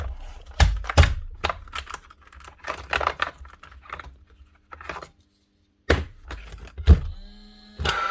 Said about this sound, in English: Motor's running and the spark unit's clicking.